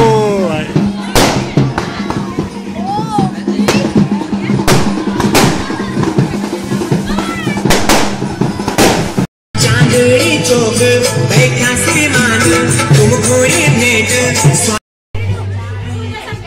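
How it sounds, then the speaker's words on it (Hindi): Repeated sharp firework bangs and crackles burst loudly over a busy outdoor wedding procession crowd with chatter and cheering, continuing nearly nonstop. "आतिशबाजी चल रही है फुल"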